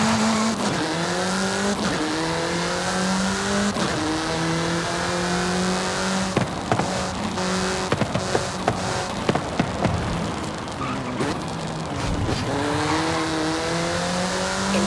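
A car in the Forza Horizon 5 racing game accelerating onto open countryside, the engine note climbing through repeated gear shifts with a steady loud roar, brief tire squeals and bumps, and no talk.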